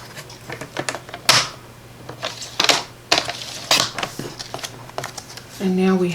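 Cardstock paper being cut to size with a paper trimmer, several sharp slicing and sliding bursts spread across a few seconds, close and fairly loud, ending with a short whirring scrape.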